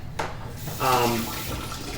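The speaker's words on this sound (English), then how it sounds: "we're going to just need a couple of inches of water. Start that going" Tap water runs into a kitchen cooking pot, filling a couple of inches for boiling lobster. A steady close hiss swells after a brief start, with a voice speaking over it.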